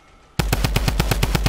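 Rapid automatic gunfire in the Fortnite video game, a loud steady burst of about ten evenly spaced shots starting abruptly after a brief quiet moment.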